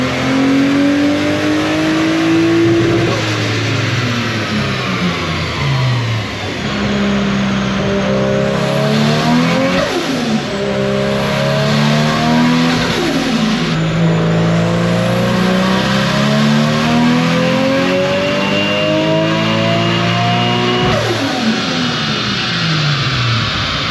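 A car's engine revving hard on a dyno at an open-house dyno day, loud and sustained, with repeated climbs in pitch and drops at each gear change.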